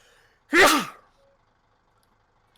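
A single close human sneeze bursts out sharply and dies away within half a second, followed by near silence.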